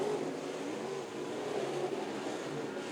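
Modified race cars roar around the Creek County Speedway oval on the last lap, a dense, steady engine drone heard from a distance with no clear passes standing out.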